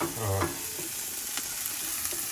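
Onions fry and brown lightly in a pan, giving a steady close sizzle with a few soft scrapes and taps from stirring.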